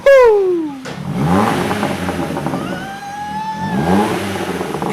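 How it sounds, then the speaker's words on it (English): Vauxhall Corsa with a full straight-pipe exhaust revving hard close by, a sharp rising rev that falls away, followed by ragged burbling and popping under a fluctuating engine drone. "Guys, we have pops on a Corsa."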